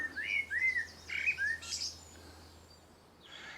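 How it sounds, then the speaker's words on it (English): A blackbird sings in a garden: several quick, fairly faint fluting and chirping phrases in the first two seconds, then a softer call against a low background hum. "I've been sitting listening to this blackbird"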